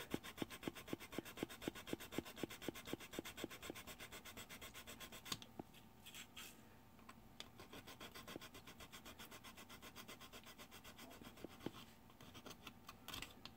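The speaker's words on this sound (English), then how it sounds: "I put sandpaper in it. And then I just go back and forth and get it cleaned up" Sandpaper wrapped around a metal axle from a Revell model kit scrubs a model car part back and forth, fast rhythmic rasping at first, then steadier quieter rubbing, close and alone.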